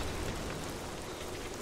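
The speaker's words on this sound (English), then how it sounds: "It's raining now." Rain pours down in the video game Rise of the Tomb Raider, a dense, steady hiss of falling drops with no pauses.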